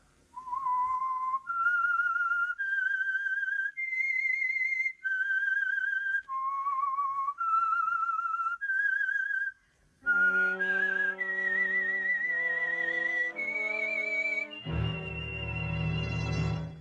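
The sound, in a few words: whistled signal tune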